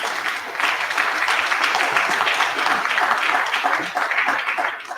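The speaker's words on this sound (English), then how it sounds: "Can you give my father a sound round of applause?" An audience applauds at a signing ceremony for an affordable housing agreement in Nigeria, a dense, even wash of clapping from a large crowd, sustained and moderately loud throughout.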